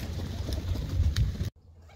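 Low, soft cooing from a flock of pigeons bathing, a murmuring layer of calls up close that cuts off abruptly near the end.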